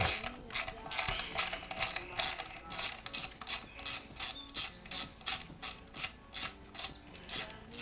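A half-inch socket ratchet clicks steadily as it backs a bolt out of an OMC Johnson/Evinrude outboard recoil starter, producing rapid, even ratcheting strokes up close with no voices.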